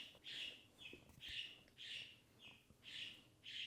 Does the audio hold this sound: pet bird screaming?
yes